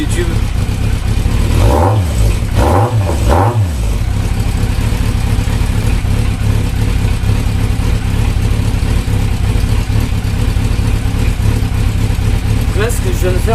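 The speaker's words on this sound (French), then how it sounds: "j'ai tout simplement contrôlé mes 4 silencieux d'échappement pour voir si mes 4 cylindres tournent parfaitement" Four-cylinder motorcycle engine revved through its exhaust silencers: three loud throttle blips rising and falling early over a steady, close, rumbling idle that continues throughout.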